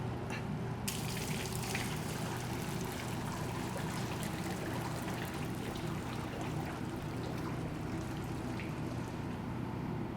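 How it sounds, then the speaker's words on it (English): Hot lemon cream liquid pours slowly into a cream beater, trickling steadily in a continuous soft splashing stream with faint clinks, no voices. "pour this off into our cream beater here real slow"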